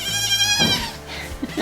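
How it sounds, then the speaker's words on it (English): Nigerian Dwarf goats bleating in a farm pen around a difficult kidding, with a few close, loud, wavering calls that overlap one another and no talking. "they're talking to you, Mama Goat"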